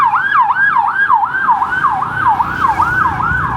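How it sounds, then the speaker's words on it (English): Ambulance siren wailing in a steady repeating up-and-down cycle, loud and close on a Thai town road, with faint traffic rumble underneath. "ambulance"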